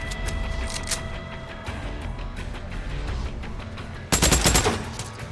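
Gunfire from firearms in the zombie shooter game Days Gone, a steady stream of rapid shots under a continuous game backdrop, then a louder, denser burst near the end.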